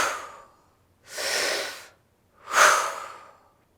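Slow, deep meditative breathing for anxiety: two long, airy breaths sound close and clear, each rising and fading over about a second, separated by near silence, with a trailing exhale at the start.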